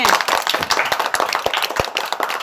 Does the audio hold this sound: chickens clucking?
no